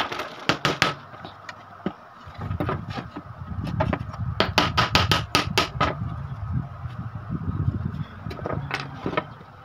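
A coconut being holed for a decorative craft piece, heard as sharp, close knocking strikes in quick irregular bursts over a low, rumbling background.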